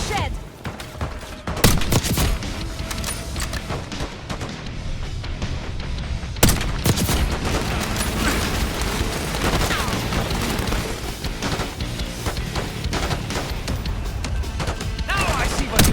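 Minigun fire in Call of Duty Black Ops 6, a long continuous roar of rapid automatic shots with heavy impacts and explosions. Loud and dense throughout, with talk in the background.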